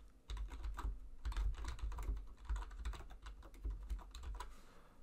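Quiet bursts of typing on a computer keyboard as code is written for a Raspberry Pi Pico, soft close clicks in short irregular runs with no voices.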